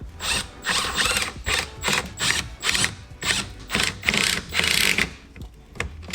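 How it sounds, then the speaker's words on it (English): A screw is backed out of a carbon front lip with a ratcheting tool, giving repeated bursts of clicking mechanical turns in an uneven rhythm, close up and alone. "So I'll pull out the one screw I put here."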